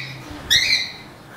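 A macaw or cockatiel in an outdoor aviary at a bird sanctuary gives a single short, shrill whistling squawk that rises sharply and fades within a fraction of a second over quiet background.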